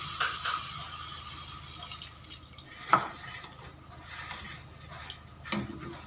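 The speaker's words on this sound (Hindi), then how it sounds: "और इसमें अब हम 1 गिलास पानी डाल देंगे।" A glass of water poured into a pot of spiced meat (aloo gosht with salt and masala) makes a steady, low liquid rush with a few sharp drips and splashes, moderately close.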